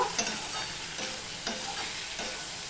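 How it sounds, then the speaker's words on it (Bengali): Green chillies and ginger sautéing for a Bengali fish curry give a steady close sizzle, with a few soft scraping stirs of a spatula at regular intervals and no voices. "চারটে কাঁচা লঙ্কা আর এক চামচের মতন আদা এগুলো আমি দিয়ে দিলাম আমি কষিয়ে নেব"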